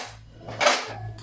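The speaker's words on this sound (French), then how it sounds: "je lave mes couverts à la main" Gold-coated cutlery washed by hand, giving soft clinks and scraping clatter of metal pieces against each other and the sink, with a louder rinsing burst in the middle, close and alone.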